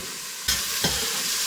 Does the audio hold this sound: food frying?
yes